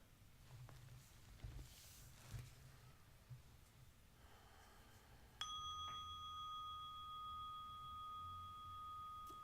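Meditation bell struck once to open a session, a clear bright ring that starts partway through and sustains with a slowly fading pure tone over quiet breathing and faint room sounds.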